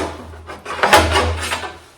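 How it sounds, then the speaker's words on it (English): The metal lock bar pole of a converted bus door slides and rattles close up, giving a few loud scraping clanks and rubbing knocks. "as you heard while I was moving the pole, the lock bar, it made all that noise"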